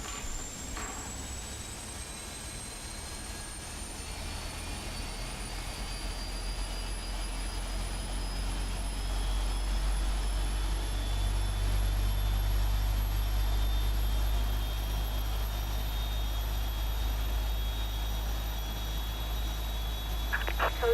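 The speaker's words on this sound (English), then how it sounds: "Right, ready to start engines, I guess." Jet engines of a Lufthansa Boeing 777F spooling up on the ground at Paine Field, a rising high whine climbing steadily over a deep continuous rumble, heard without talk.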